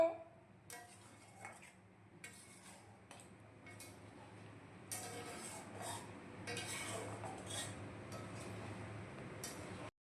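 Spoon stirring tea in a pot, soft scraping and clinking of metal against the vessel in irregular strokes, fairly quiet and close with a low background hum.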